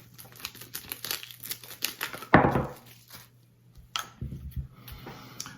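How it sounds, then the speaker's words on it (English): Thin plastic protective film is peeled and crinkled off an acrylic display stand at close range, giving irregular bursts of crackling with one louder tear midway, and no talking. "we'll take these plastic covers off, and I'll show you how it sets up"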